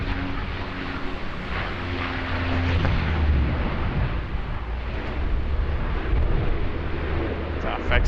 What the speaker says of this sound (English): Like this Saab 340.